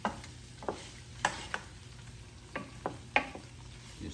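Shrimp and vegetables cooking in a Power XL, stirred with a utensil: a soft steady sizzle with sharp scraping clicks and taps at irregular intervals, close up, with no talking.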